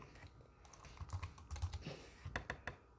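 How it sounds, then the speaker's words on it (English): Fingers typing on a computer keyboard, a quiet run of soft, uneven key clicks with a few sharper taps near the end, heard alone in a still room. "we're going to go to design and type that in"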